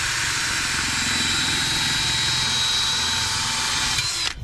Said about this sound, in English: So I get my drill in here and just clean this up